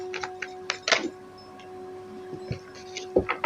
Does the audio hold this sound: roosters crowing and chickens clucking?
no